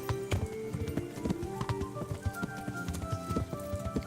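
Horse hooves clip-clop rapidly in the medieval game Kingdom Come: Deliverance, an irregular run of moderately loud impacts over faint background music.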